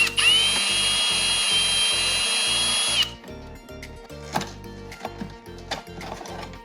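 A power driver whirs steadily for about three seconds while loosening a 6mm hose clamp on the cold air intake of a BMW F8X with an S55 engine, followed by light clicks and taps of handling parts.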